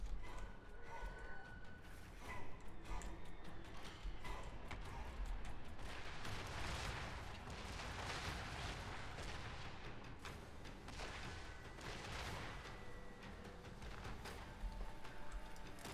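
Ogre scrap launchers and lead belcher cannons firing in a Total War: Warhammer III battle, a dense run of booming shots and crackling gunfire over a busy mix of battle noise.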